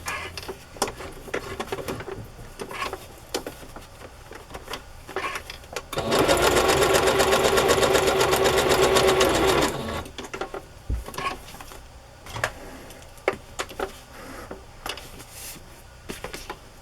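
A sewing machine zigzag-stitches across the bottom of a tag in one loud, steady burst of about four seconds, with quieter handling rustles and taps before and after.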